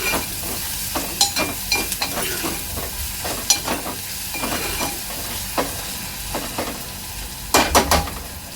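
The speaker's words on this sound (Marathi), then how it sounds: "चांगलं मिक्स करून घ्यायचं आहे।" Chicken sukka sizzles in a frying pan while being stirred, with repeated scraping strokes over a constant hiss of frying. A louder cluster of scrapes comes near the end.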